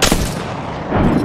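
Loud gunfire bursts from an online shooter game, with a booming shot at the start and another swell near the end, dense and continuous through the short stretch with no talking.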